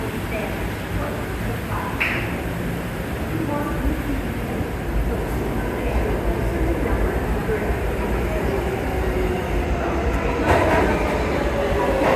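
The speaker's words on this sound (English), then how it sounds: "This is a Brooklyn-bound train." A Brooklyn-bound New York City subway train rumbles steadily close by with a dense clatter and screech of wheels, continuous throughout with no speech.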